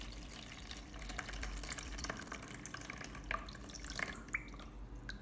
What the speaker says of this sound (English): Pour away the water.